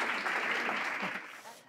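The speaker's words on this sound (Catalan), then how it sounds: "Aplaudiu." An audience at a school event on students' memory projects claps together in a dense, even burst of applause that holds steady and then fades out quickly at the end.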